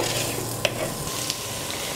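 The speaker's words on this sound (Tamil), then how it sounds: "நல்லா வதங்கியாச்சுங்க நம்ம இடிச்சு வச்சுக்கிற பூண்டும் இஞ்சியும் போட்டுக்கலாம்" Crushed garlic and ginger sizzle steadily in hot oil in a pan, a constant bright frying hiss with a couple of faint clinks from stirring.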